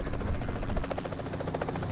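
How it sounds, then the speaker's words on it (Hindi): Helicopter in a PUBG-style battle royale video game, a steady buzzing rotor chop with rapid rhythmic pulses, moderately loud and continuous throughout. "हेलीकॉप्टर लेके भाग रहा हूँ"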